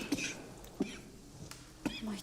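A woman coughs in a period murder-mystery drama, several short harsh coughs spaced across a couple of seconds, close and moderately loud, with faint breathy voice sounds between them.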